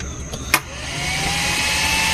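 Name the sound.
inverter blower fan running after repair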